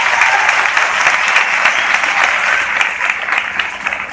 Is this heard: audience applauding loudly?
yes